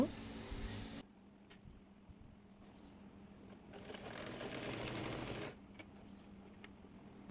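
A sewing machine stitches a round petticoat, running in two bursts of steady mechanical whirring with a quieter pause between, fairly faint and close, with no voices.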